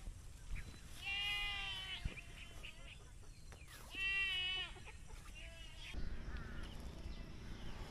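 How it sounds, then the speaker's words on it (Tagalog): Goats bleat nearby in two loud, wavering calls a few seconds apart, with fainter bleats and rustling background noise between them and no clear talking. "Ingay ng kambing."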